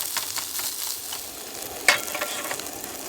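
Ground meat frying in a small pan over a camp stove at an Ozarks campsite, a steady soft sizzle with faint stirring scrapes and one sharper clink near the end.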